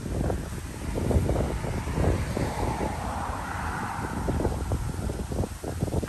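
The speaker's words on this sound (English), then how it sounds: "See how windy it is?" Wind blows through an orchid garden outdoors in South Florida, a continuous gusting rush with microphone buffeting, steady and fairly loud, no voices heard.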